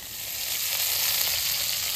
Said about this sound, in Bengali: এই মাছটা বেশি ভাজবো না, এমনিতেই তো লাল মাছ